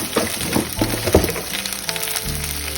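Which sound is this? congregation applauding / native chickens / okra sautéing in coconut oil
okra sautéing in coconut oil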